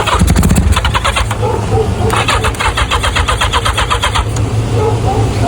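A 1985 Yamaha XJ700 motorcycle cranks over on a jump from a truck, a loud, rhythmic starter churning in repeated bursts with a brief pause, the engine sounding weak and not catching, with voices talking over it.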